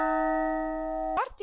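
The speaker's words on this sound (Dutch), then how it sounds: "de klokken luiden al" A church bell rings before Mass, a sustained, steady tone with layered harmonics for over a second, then cuts off abruptly into brief movement noise.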